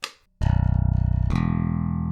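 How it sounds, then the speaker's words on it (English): Ormsby bass guitar played through an onboard Darkglass preamp with the EQ set flat: a brief plucked note, then a loud sustained low note with a fresh attack partway through, ringing alone without talk. "Now I'm going to turn the preamp on and have all of the EQ knobs set flat with no booster cut."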